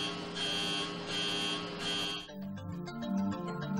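Aircraft cabin pressure altitude warning horn, triggered when cabin pressure drops below about 10,000 feet, heard as three loud repeating buzzer-like tones in steady pulses, then giving way to a lower droning mix of tones.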